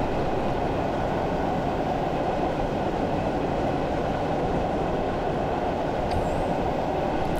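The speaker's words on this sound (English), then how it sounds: "going to idle the power and allow the train to coast up towards the speed limit" Class 111 diesel multiple unit coasting with power idled in Train Simulator 2015, a continuous steady rumble of wheels and running gear with low engine drone, unbroken and close throughout.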